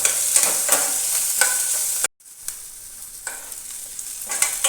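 Curry leaves and peanuts sizzle in hot oil during a tempering for North Karnataka puffed-rice susla, with a steady bright crackle and scraping stirs; a brief near-silent gap interrupts midway before the frying resumes, close and fairly loud.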